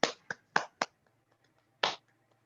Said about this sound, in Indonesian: Sebelumnya tepuk tangan dulu.